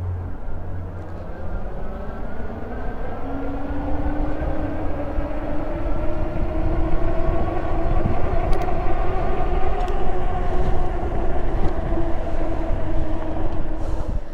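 A Cyrusher XF650 e-bike speeds up to top speed on throttle alone, its motor whine rising steadily over loud rushing wind noise that builds throughout.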